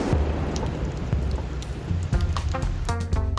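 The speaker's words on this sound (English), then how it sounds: "just in time for the next downpour" Heavy rain pours down in a dense, constant hiss, drumming hard on nearby surfaces.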